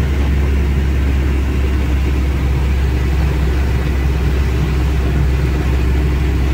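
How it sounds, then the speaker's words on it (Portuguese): A truck on a steep mountain road descent near Umbuzeiro, Paraíba, makes a steady, loud, deep engine rumble with engine braking in third gear, continuous and close with no voices. "Liberou o freio motor."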